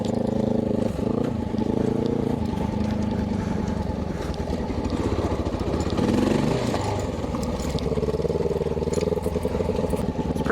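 A motorcycle engine drones steadily up close, its pitch shifting as the rider changes speed, loud and continuous throughout, while riding near Badger Lake.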